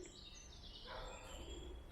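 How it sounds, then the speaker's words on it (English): Birdsong drifts through a wooded, overgrown cemetery, faint and continuous high chirping under steady outdoor ambience, with no talking. "I love the sounds of the birds."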